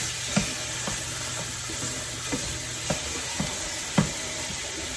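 Meat seasoned with salt, pepper and garlic sizzles steadily in a pan, a continuous frying hiss close by, broken every second or so by soft clicks and taps of stirring, with no talk.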